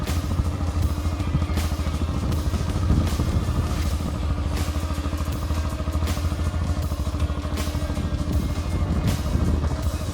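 Motorcycle ridden through a turn during a first riding lesson, a steady close engine drone with a rapid clattering pulse that holds level throughout, with no talk.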